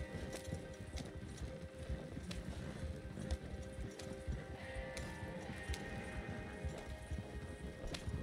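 Horses gallop in the video game Red Dead Online with a continuous, steady clatter of hoofbeats over a noisy rushing background, at a moderate level and without talk.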